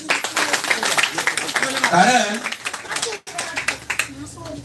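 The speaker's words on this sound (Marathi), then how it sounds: "एकदा त्या 2 मुलींसाठी टाळ्या वाजवा." An audience claps for two girls at a gathering. Brisk, sharp handclaps rattle through the opening seconds under a speaking voice, then the speech continues over fainter, scattered claps before a brief dropout.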